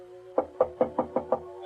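Six evenly spaced knocks on a wooden door, sharp and fairly close, staged for a radio drama, with no voices over them.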